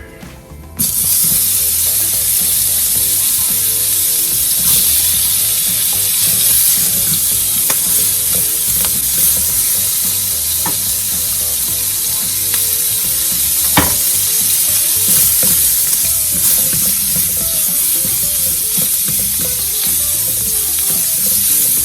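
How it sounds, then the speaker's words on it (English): Shrimp fry in olive oil in a pan, giving a loud, steady, continuous sizzle with scraping and stirring as they are tossed around, close up with no talking. "We're going to add just a tiny bit more of olive oil, and we're going to get our shrimp in there."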